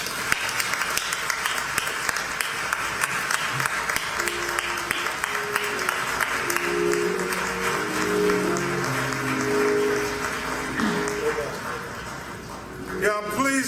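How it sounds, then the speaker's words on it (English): Sustained audience applause at a community memorial service in Minneapolis for George Floyd, dense clapping filling the space with voices and murmured talk rising through the middle before a brief louder burst near the end. "please give his family another round of applause."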